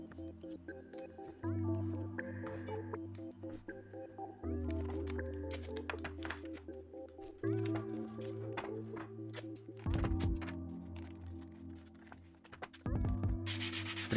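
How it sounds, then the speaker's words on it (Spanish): Repeated strokes of sandpaper rub across a Dana 30 axle's metal cover, each pass a steady scratchy hiss with brief pauses between, close and fairly loud. "Primero lijamos toda la tapa."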